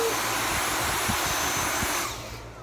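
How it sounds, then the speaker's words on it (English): A household vacuum cleaner runs with a loud, steady rushing whine and a low motor rumble that continues for about two seconds, then begins to wind down and fade. "This is a real vacuum."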